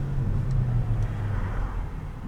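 A Porsche Panamera Turbo S E-Hybrid engine in Sport Plus mode rumbles steadily with a low droning exhaust note, close and fairly loud throughout.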